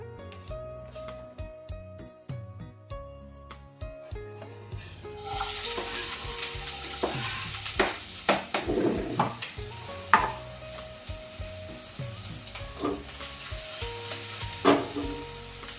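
Onion sizzling and frying in a pan at home, with loud spatula scrapes and clanks as it is stirred; a quiet start gives way to steady, busy frying hiss.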